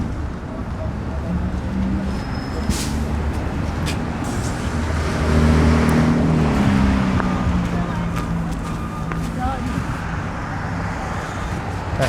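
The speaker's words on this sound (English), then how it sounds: "That bus is going all the way to Broadview Station." A city bus passes along a street in Toronto's former borough of East York near Flemingdon Park, its engine rumble swelling to a peak and fading over steady winter road traffic, with a voice talking over it.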